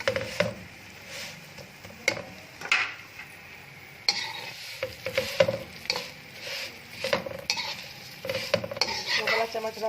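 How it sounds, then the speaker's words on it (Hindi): Vermicelli (sevaiyan) lightly frying in a pan for a sweet dish, a metal spoon repeatedly scraping and clanking against the pan with irregular stirring knocks over a soft sizzle, close and fairly loud, no talk. "अब हम इसमें ऐड करेंगे सेवइयाँ। और इनको हल्का सा फ्राई करेंगे।"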